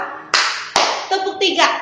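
Two sharp group claps from a seminar audience during a clapping exercise at a training session, followed by a spoken voice.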